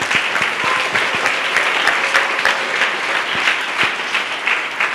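Audience applause at a family personal-development gathering, a steady wash of many hands clapping for the full stretch, fairly loud and close with no talk over it.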